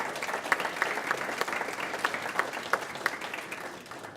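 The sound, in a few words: graduation audience applause for the senator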